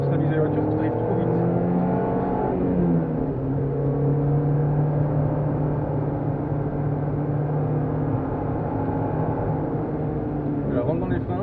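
A Peugeot 206 S16 on a racetrack brakes and then accelerates, its engine note dropping then climbing in a steady, sustained drone heard from inside the car, with a voice giving instructions over it.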